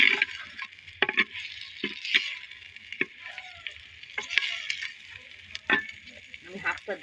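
Onions sizzle and fry in a clay pot, a soft continuous hiss broken by repeated clinks and scrapes of stirring.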